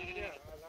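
Mountain sheep bleating while a flock of ewe lambs is gathered for shearing and tick dipping, a short close call with a wavering tone.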